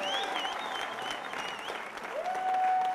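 Applause from guests at a wedding ceremony, a steady wash of clapping at moderate distance with a faint tonal whistle or voice rising over it near the end.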